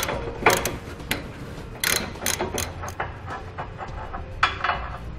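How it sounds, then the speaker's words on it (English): A 30mm socket wrench loosens the large nut on the back of a 2018 Jeep tow hook. Close ratcheting clicks and clanks repeat unevenly over a low mechanical background. "Start with the large nut on the back side of the tow hook using a 30mm socket."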